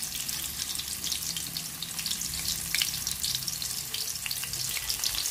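Vegetarian chicken pieces fry in a pan with a steady, dense sizzle and crackle, close and fairly quiet, continuous throughout with faint stirring underneath.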